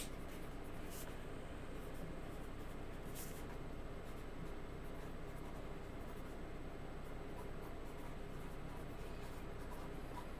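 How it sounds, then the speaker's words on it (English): Continuous scratchy writing, like pen or pencil moving steadily across paper, close and even for the whole stretch with no talk. "let's write that down"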